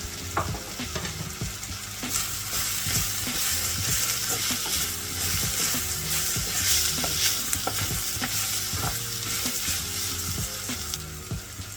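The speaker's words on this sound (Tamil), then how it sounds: "வெங்காயம் வதங்கி வர்ற நேரம் உள்ளியையும் வெந்தயத்தையும் போட்டு கிளறணும்." Onions frying in a pan with garlic and fenugreek added for a Jaffna-style vadai curry, a steady close sizzle with repeated scraping clicks of a spoon stirring throughout, no voices.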